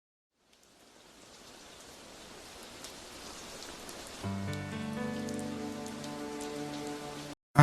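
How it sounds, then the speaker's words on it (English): Steady rain ambience fades in from silence, a soft even wash of drops on a surface, joined partway through by sustained musical tones before cutting off abruptly. "I don't know if I want the rain ambience."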